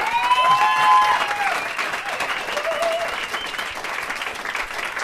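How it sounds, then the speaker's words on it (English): An audience applauds a panel at a live podcast taping, steady moderate clapping throughout with a few whoops and scattered voices. "how about a round for our pa- a round of applause for our panel?"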